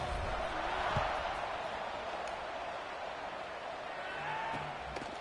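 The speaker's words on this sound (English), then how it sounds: "this crowd is buzzing after that last score" A college football stadium crowd at a Dragons vs Georgia Southern game buzzes after a score: a dense, steady roar of many voices, loud and unbroken throughout, with faint scattered thumps inside the din.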